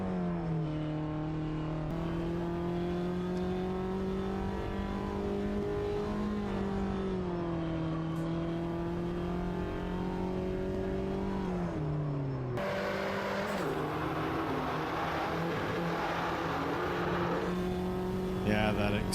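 A racing car in the video game Automobilista 2, heard from an external view, drones with a steady engine note that shifts pitch through gear changes and revs, with a sharp tonal change partway through.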